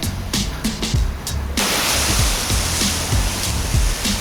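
A pressure washer gun rinses grime off a roof in Florida. A few soft knocks come first, then a steady, loud, hissing spray starts and runs on without a break.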